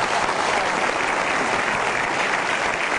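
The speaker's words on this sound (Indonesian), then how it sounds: "Boleh kita berikan tepuk tangan sekali lagi buat para juri Kick Andi Heroes Award." An audience applauds the jury at the Kick Andy Heroes Award event, a steady, dense wash of clapping that holds evenly loud for the whole stretch with no voices breaking through.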